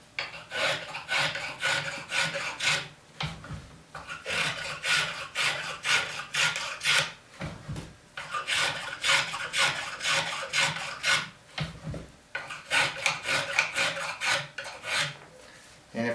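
A rasp files rhythmically across a wooden spindle tenon in repeated scraping strokes, each pass a dry rough rub with short pauses between bursts.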